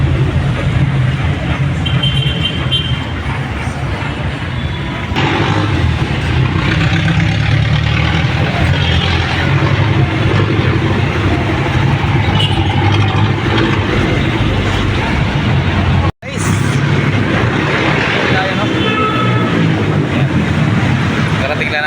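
A jeepney's engine drones with a loud, steady low rumble from inside the moving vehicle, and people talk over it while a brief cutout interrupts the noise partway through.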